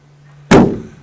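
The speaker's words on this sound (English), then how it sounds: "Near side door shut perfectly as well." A single solid thud of a Land Rover Defender 90 200TDi soft-top door shutting, loud and close, with a short dull decay after a near-silent lead-in.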